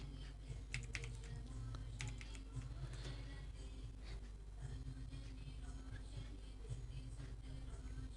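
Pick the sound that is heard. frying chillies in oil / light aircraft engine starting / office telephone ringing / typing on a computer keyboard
typing on a computer keyboard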